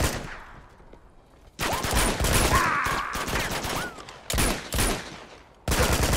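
Bursts of rapid gunfire in Uncharted 2: Among Thieves, several loud clusters of shots separated by quieter gaps, close and punchy, with little talk over them.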